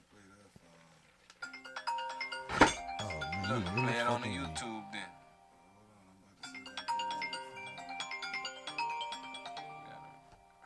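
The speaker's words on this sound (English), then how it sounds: "Phone calls coming through." A phone ringtone plays an incoming-call melody of repeated chiming tones in two bursts, loud and close, with people talking over it in a podcast studio.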